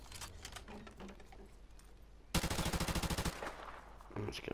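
Gunfire in the video game Modern Warfare Remastered: scattered shots, then a loud rapid automatic burst of about a dozen rounds, close and sharp, with more shooting trailing off.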